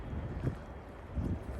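Wind gusting into a camera microphone near a railroad crossing, producing low rumbling buffets in two bursts, fairly quiet overall.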